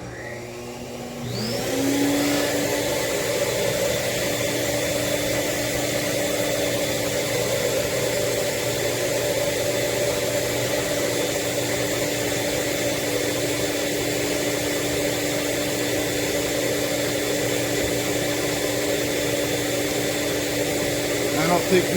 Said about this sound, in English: when I turn the vacuum on.